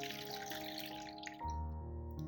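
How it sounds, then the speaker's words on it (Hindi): Cold water poured onto freshly boiled noodles in a home kitchen, a short splashing, running stream lasting about a second before it stops, with a steady hum behind it. "अब आपने इसमें थोड़ा सा ठंडा पानी भी डालना है।"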